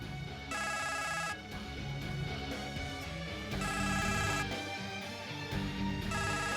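A mobile phone ringing in a home drama scene, its ringtone repeating in regular bursts over soft background music.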